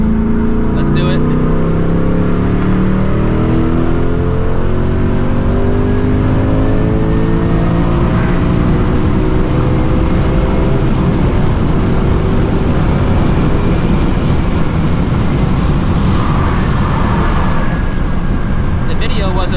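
A tuned S650 Mustang GT running E85 fuel accelerates hard, its loud engine roar climbing steadily through a long gear and filling the whole stretch close to the listener.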